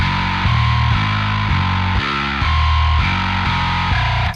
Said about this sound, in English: for if you want like a huge metal bass kind of sound